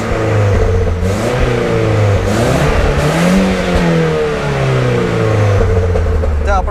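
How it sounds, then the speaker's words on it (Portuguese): A Nissan 200SX S13 drift car with a CA18DET engine suffering rod knock runs close and loud, its revs rising and falling steadily under a constant rough mechanical drone. "isto está a fazer um barulho estranho aqui no motor"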